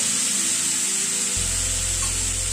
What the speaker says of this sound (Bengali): মিনিট দুটোরে আবার একটু নাড়াচাড়া করে নিলাম